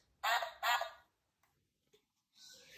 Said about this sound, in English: Let's take the leftover bread and feed the ducks.